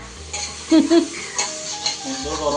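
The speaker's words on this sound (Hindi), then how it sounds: "तड़का लग रहा है।" Spices crackle and sizzle as they hit hot oil for a tadka, with short bursts of loud sizzling, stirring and a few light clinks of a utensil against the pan, close by.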